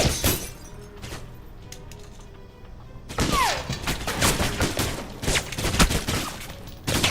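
Video game gunfire cracks out in a rapid run of sharp shots, with glass shattering and breaking amid the barrage; a quieter stretch comes first, then the loud, dense volley of impacts takes over.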